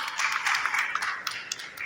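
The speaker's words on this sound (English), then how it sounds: "I guess I deserve a round of applause." An audience at a magazine launch event in Lagos claps briefly, a short burst of moderately loud, uneven applause with scattered sharper hand claps and no voices.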